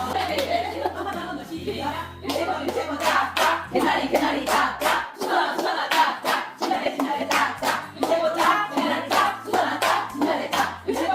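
Sharp, rhythmic hand claps repeat throughout a group finger-play hand exercise, close and crisp, sometimes in quick runs of several beats, with people singing, chatting and chuckling between the claps.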